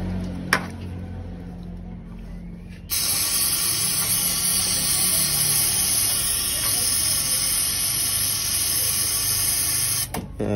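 Close, steady hiss of carburetor cleaner sprayed from an aerosol can onto a motorcycle carburetor, starting abruptly after a short click and running continuously for several seconds before cutting off.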